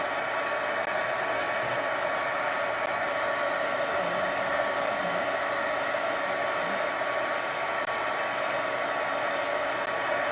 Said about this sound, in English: Okay, I'm just gonna heat it for 15 seconds.